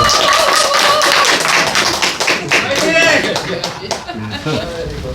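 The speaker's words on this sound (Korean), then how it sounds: "큰 박수 부탁드립니다" An audience at a live lecture concert applauds a speaker being introduced, a dense burst of clapping that thins and fades over several seconds, with scattered chuckles and chatter beneath.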